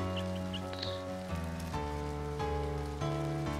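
Steady soft rain patters in the video game A Bird Story, a faint continuous hiss beneath sustained musical tones, with a few brief chirp-like blips near the start.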